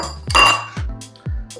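A lid set down onto a container holding freshly mixed 100% hydration focaccia dough, giving a few sharp clattering knocks and clinks with short low thuds, close and fairly loud, with no talk.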